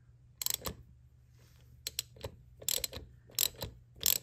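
A thread chaser being turned by hand with a socket on a 1940 Indian Chief motor, heard as quiet intermittent ratcheting clicks in short bursts separated by near silence.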